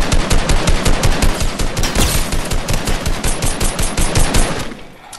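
Rapid automatic gunfire in Fortnite, a loud, close, steady stream of shots lasting about five seconds before trailing off at the end, with no talking over it.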